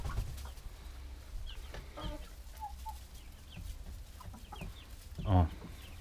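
Young laying hens about 25 weeks old cluck softly around a henhouse, scattered low calls under a faint background hum, with one louder burst near the end.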